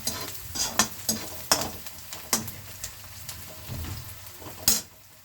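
Chopped onions sizzle and fry in a pan at home while being cooking a pumpkin-squash curry, with a steady crackle broken by repeated sharp scraping stirs of a spoon against the pan, close and fairly quiet, no talking.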